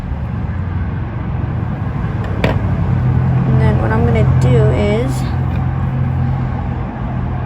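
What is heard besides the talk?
loud cars passing outside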